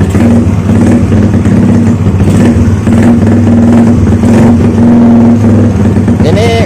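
A loud Yamaha MX motorcycle engine with a faulty, leaking carburetor roars and revs continuously up close, drowning out a voice talking underneath.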